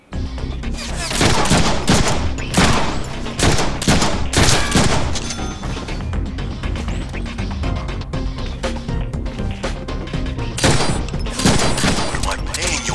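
Dense, loud gunfire from an action movie scene keeps going almost without a break for the whole stretch, with heavy overlapping volleys and a few sharper peaks.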